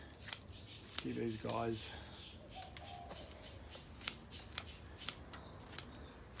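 Scissors snip through the roots of a trident maple bonsai during repotting, a series of sharp, close clicks and cuts spaced through the clip, with someone talking briefly near the start.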